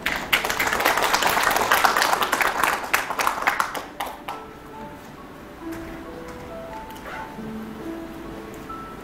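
An audience at a corporate NCS consulting kickoff meeting applauds to welcome the secretary general, brisk clapping for about four seconds that fades into quiet room noise with faint tones.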